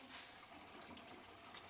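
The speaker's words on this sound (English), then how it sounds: "You can hear the water going through." Water drains through a sink P-trap after the drain plug is pulled, giving a steady, soft rushing gurgle that runs throughout with no voices.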